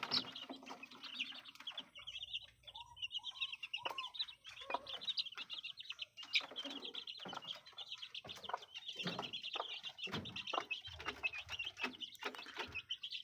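A mother hen with her chicks gives soft, repeated clucks among high chirping peeps, the calls scattered and irregular at a moderate distance with a faint background.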